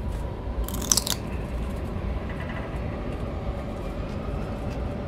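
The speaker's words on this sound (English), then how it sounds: "That was me crunching into one of their carcasses." A brief crisp crunch as a character bites into a bug carcass in a video game, one sharp burst early on over a steady low rumbling background.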